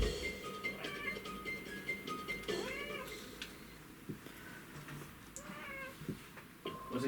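A cat meows several times, with short rising and falling cries spaced irregularly over a few seconds. The cries sit close against a busy indoor background with no clear talking.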